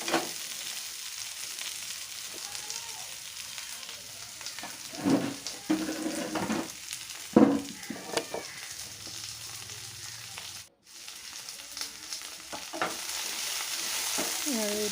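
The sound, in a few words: mango pieces stirred and frying in a pan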